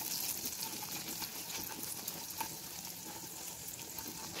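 Carrots for chicken manchurian cook in a pan with a faint, steady sizzle and soft crackle, no voices over it.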